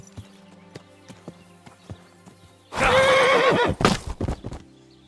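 A horse in the video game Kingdom Come Deliverance 2 clip-clops at a steady walk, then lets out a loud, close, quavering neigh, followed by a few more heavy hoof thumps.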